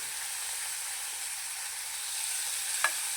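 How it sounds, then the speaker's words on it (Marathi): Onion and tomato sautéing in a pan for aloo pulao, giving a steady, close sizzling hiss throughout with one brief scrape of a spoon near the end, no voices. "आणि नंतर मग कांदा टाकायचा मस्तपैकी ह्याला परतून घ्यायचं बघा नंतर मग टमॅटो टाकायचा"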